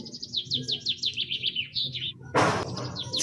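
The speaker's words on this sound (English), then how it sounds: "the chirping of a bird" A bird chirping close by in rapid repeated sweeping notes, a brief pause, then a sharp rushing burst with more chirps over it.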